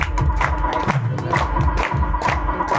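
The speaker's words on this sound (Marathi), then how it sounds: "जोरदार टाळ्या." An audience at a student merit award ceremony in Mumbai claps and cheers in a dense, rhythmic burst of applause that fills the hall throughout.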